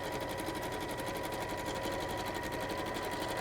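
A sewing machine straight stitching cotton fabric at a 2.4 stitch setting with a quarter-inch seam, running in a fast, steady, even whir and clatter throughout, fairly quiet and without voices.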